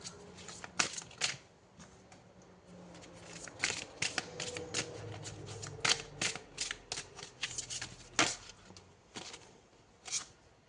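A tarot deck shuffled and cards drawn during a horoscope reading, producing dense, rapid riffles and papery clicks in uneven bursts, close-up and soft with no voices.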